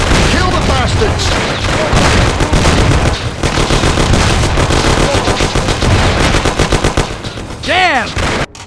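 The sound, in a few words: gunfire in the video game Mafia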